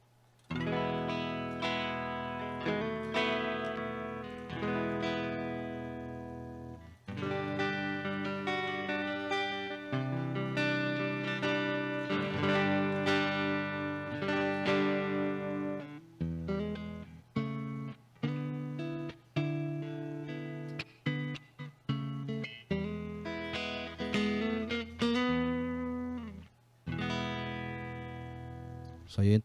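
An electric guitar plays a preset through an M-VAVE Tank G multi-effects unit connected by a 3.5mm cable, with sustained chords and melodic runs that turn into choppier, stop-start phrases, played alone at moderate volume for half a minute.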